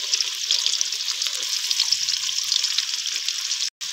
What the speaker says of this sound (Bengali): আলুটা ভেজে নিয়েছি, এবার আমি পেঁয়াজগুলো আলুর মধ্যে দেব। পেঁয়াজটা বেশি ভাজবো না,